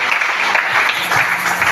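A church congregation applauding during a service, dense and steady clapping from many hands filling the room, loud and close throughout.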